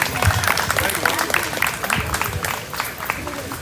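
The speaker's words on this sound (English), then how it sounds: "Another round of applause for our state senator again" An audience applauds steadily after a state senator's speech, a dense patter of clapping from a crowd at a live event, with voices mixed in.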